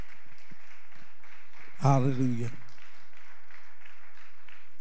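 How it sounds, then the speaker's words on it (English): A church congregation claps hands in praise, light rhythmic clapping that runs steadily at low level while a voice calls out once in the middle. "give the Lord a hand clap of praise"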